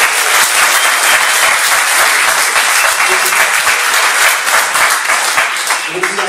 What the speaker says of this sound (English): I'd like everyone in the room to clap their hands as hard as possible,